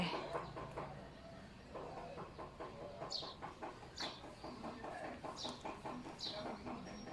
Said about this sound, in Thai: นี่ก็ไก่สุดสงวน